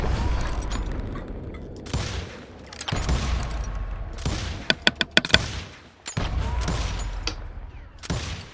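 Gunfire in the western shooter Call of Juarez Gunslinger: loud bursts of shots and booms come in clusters, with a quick run of sharp single cracks partway through and short quiet gaps between volleys.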